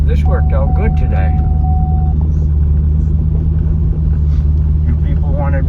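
Motorcycles of a rally rolling past in Cave Creek, Arizona, a loud, deep engine rumble that holds throughout while someone talks over it.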